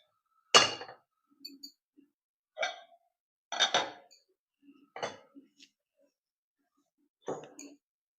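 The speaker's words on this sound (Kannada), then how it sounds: "ಪಾತ್ರೆ ಇಡ್ತಾ ಇದ್ದೀನಿ." A cooking pot is set down on a kitchen stove with a handful of sharp metallic knocks and clinks, close and spaced apart over several seconds in an otherwise quiet room.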